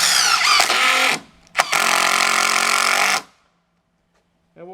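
A power driver sinks a screw into a wooden log box in two loud, high-pitched whining bursts separated by a brief pause, then cuts off to near silence.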